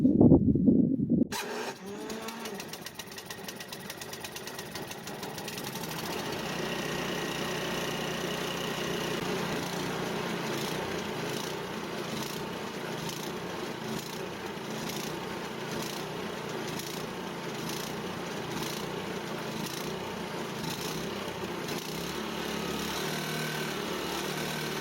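A gasoline snow blower with electric start and choke fires after a brief loud burst, then runs at a steady, moderately loud idle for the rest of the stretch, with no talking.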